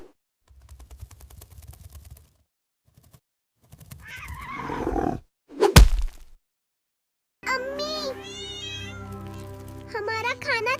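Cat crying out after being bitten by a mouse in a cartoon: a sharp smack, then a loud, wavering yowl with a whinny-like pitch, heard close after quieter rustling sounds.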